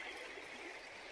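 Paimionjoki river flowing past an island where the channel splits in two, a steady broad wash of running water with no voices, close and continuous throughout.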